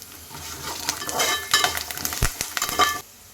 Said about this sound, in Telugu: మన పోపు అయితే ఎగిపోయింది